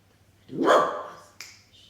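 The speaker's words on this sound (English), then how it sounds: "Buddy, sorry, that's the dog." A pet dog gives a single bark-like burst, fairly loud and close, followed by a short fainter yelp, indoors during a home yoga session with a faint steady hum beneath.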